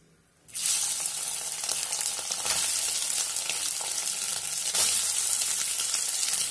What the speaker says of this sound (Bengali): এখন সয়াবিনগুলোকে আমি ভেজে নেব।